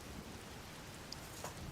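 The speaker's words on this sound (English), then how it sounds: "We just gotta let it wait until it's not raining anymore" Steady rainfall in a Zelda video game, a soft even wash of falling rain with no other sound and no talk.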